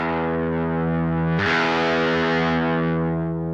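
A sustained electric guitar chord through a Boss Katana amp, the tone suddenly switching to heavy, buzzy distortion partway through and ringing out.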